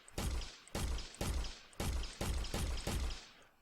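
A gun in Unreal Engine 4 firing at voxel terrain and carving material away, heard as seven loud, boomy blasts about half a second apart, each with a short decaying tail.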